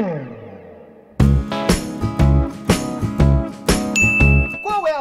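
A notification bell dings over a punchy, rhythmic musical jingle, with one sustained bright chime ringing out near the end; no one speaks.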